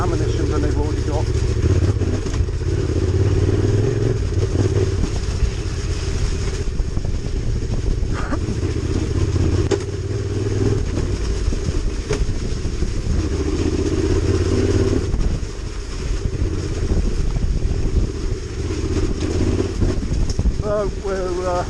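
A Yamaha T7 Tenere 700 motorcycle rides an off-road trail in South Shropshire, its engine droning and rising and falling continuously under rushing wind and clatter.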